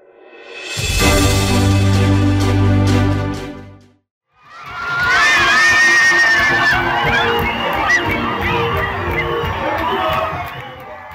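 At an international Christian missionary church celebration in Abidjan, a large crowd cheers, shouts and ululates loudly, and after a short gap a second swell of joyful cries and high shouts continues.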